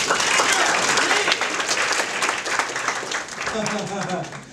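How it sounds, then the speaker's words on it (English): Class at a winter class show applauds itself with loud, dense clapping that carries on for several seconds, with voices and a speaker talking over it near the end. "Give yourselves a round of applause"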